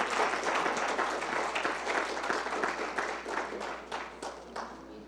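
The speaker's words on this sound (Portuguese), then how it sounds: "Pode aplaudir?" A church congregation claps in dense applause that stays fairly even and moderately loud, with a few sharper individual claps standing out as it slowly thins toward the end.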